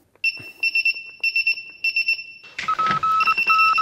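A Begode MTEN electric unicycle powering on gives repeated bright, close beeps in short bursts, then a denser run of tones and a clatter near the end.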